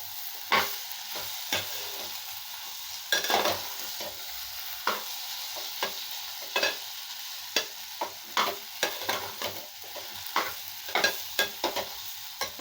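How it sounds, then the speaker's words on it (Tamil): Potato podimas being stirred in a frying pan after salt is added, a spoon scraping and turning the mash in quick irregular strokes over a soft steady sizzle, close and clear with no talking. "நல்லா கிளறலாங்க."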